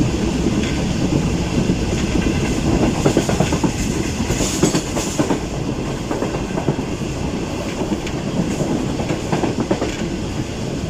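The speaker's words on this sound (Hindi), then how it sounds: "ये यूसुफ वाला कोल ट्रेन विद GU 49002 बिल्कुल रेडी है डिपार्चर के लिए" A coal freight train on Pakistani rails rumbles steadily and loudly close by, with rhythmic clickety-clack of wagon wheels and occasional metallic squeals throughout, no talk.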